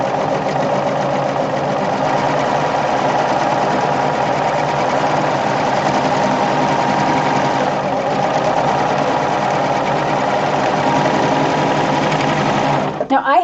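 A serger sewing machine runs at a steady, fast whir for quilting, stitching and trimming a sliver off the fabric edge. The motor hums loud and continuous until it stops abruptly at the very end.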